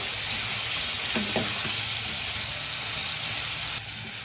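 Flat beans hit a pan of Bengali-style gravy, giving a continuous close sizzle and hiss while a spoon stirs briefly, with the frying tone dropping slightly near the end.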